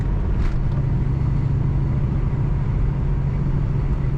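A 1999 Ford Mustang SVT Cobra convertible driving, a loud steady engine drone with rumbling road noise filling the cabin and a faint high whine riding on top.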